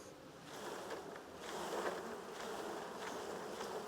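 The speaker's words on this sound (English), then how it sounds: "The bees kind of get airborne when we do it." Honeybees shaken off a hive frame take flight in a soft, steady swarm buzz that swells and fades slightly, fairly faint, with no voices.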